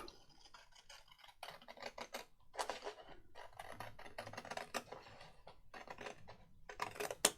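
Scissors cutting a long thin strip from 12x12 patterned craft paper alongside a scored crease, a steady run of close, crisp snips and paper rustles with short pauses between cuts.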